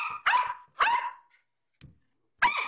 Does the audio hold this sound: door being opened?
no